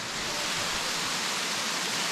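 A steady, dense roar of the Bigar Waterfall in Romania, constant and fairly close, with no voices.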